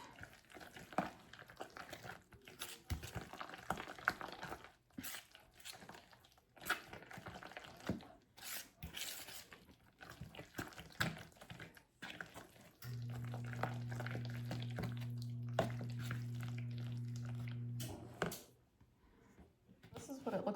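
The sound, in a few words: mixing mayonnaise into dip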